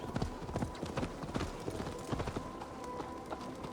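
Horse hooves clip-clop steadily in the game Assassin's Creed Valhalla, a brisk, close, even rhythm of hoof strikes running through the whole stretch with a faint background hum.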